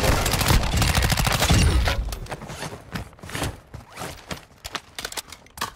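Gunfire in the Call of Duty DMZ video game: a dense, loud burst of rapid shots in the opening seconds, then scattered sharper single reports and mechanical clatter that fade lower toward the end.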